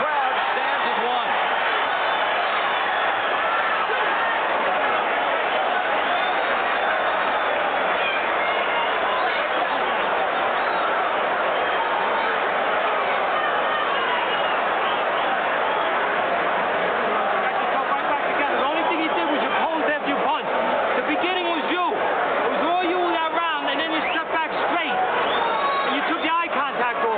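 Boxing arena crowd at a Holyfield fight roars and cheers as people rise to their feet, a loud continuous crowd din that swells toward the end with mixed voices and shouts.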